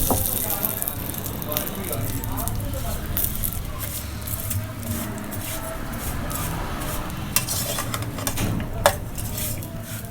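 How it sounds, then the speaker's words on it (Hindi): Dry fruits frying gently in a pan on very low heat for Eid mixed dry fruit sawaiyan, a soft steady sizzle with occasional light clinks and scrapes, continuous through the whole stretch. "बिल्कुल धीमी आंच पे फ्राई करना है इनको"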